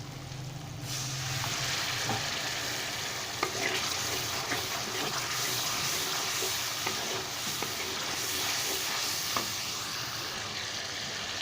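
Loud, steady sizzling of hot oil and masala as water is added, with scraping stirs and a few sharp crackles throughout, no talking.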